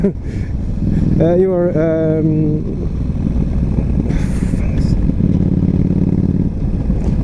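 A Yamaha XVS 1300 Stryker's V-twin exhaust burbles and rumbles nearby, with a brief rising rev in the middle, as a rider speaks over it.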